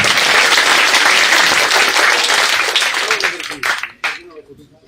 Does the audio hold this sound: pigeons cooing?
no